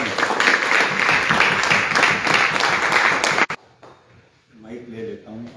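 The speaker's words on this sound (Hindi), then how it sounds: "तो जोरदार ताली।" A crowd at an event in Meerut, Uttar Pradesh applauds loudly and steadily for about three and a half seconds, then the clapping cuts off abruptly and someone speaks quietly.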